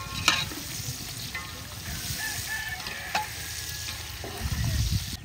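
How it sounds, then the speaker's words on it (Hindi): Chopped tomatoes go into softened onions in a frying pan, giving a steady sizzle with stirring scrapes and a few sharp clinks, fairly close and continuous, no talking. "प्याज को नरम कर लिया और प्याज के साथ डालेंगे देखते हमें टमाटर।"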